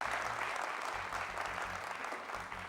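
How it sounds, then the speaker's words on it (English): A studio audience at a leadership competition show applauds steadily, dense and continuous clapping filling the whole stretch without speech. "Both of them, they deserve a round of applause."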